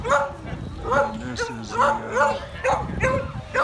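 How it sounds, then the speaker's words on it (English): Several dogs bark and yip in quick bursts at the Paradise Inn visitor area on Mount Rainier, fairly close and loud, while someone talks over them. "Some weirdos brought their dogs, of course."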